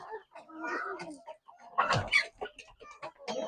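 Chickens and young chicks cluck and peep close by while pecking at feed, short irregular calls with one louder burst near the middle, mixed with soft scratching and light background noise.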